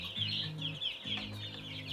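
Chickens, including Isa Brown, Black Australorp, Barred Rock and Gold Laced Wyandotte layers, cluck softly and repeatedly close by, a few overlapping calls over a faint background hum.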